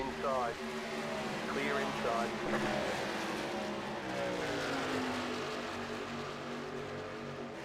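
Racing truck engine in iRacing, a steady buzzing drone held at high revs with rising and falling pitch sweeps as other trucks pass, under continuous talk.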